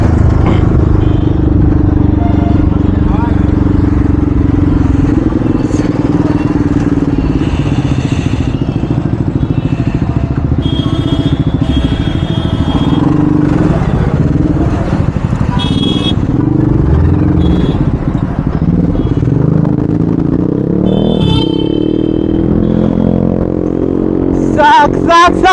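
A motorcycle ridden hard and fast with worn-out brakes, its engine droning loud and close throughout alongside clatter, with a few sharp knocks near the end.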